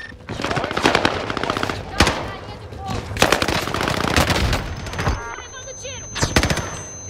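Rapid bursts of automatic gunfire from a Type 100 submachine gun in Call of Duty: Warzone, loud and close, firing in repeated volleys with brief pauses between them.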